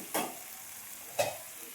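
Eggplant cooking in a pan, with two short soft sizzling or stirring bursts over a quiet low background hiss.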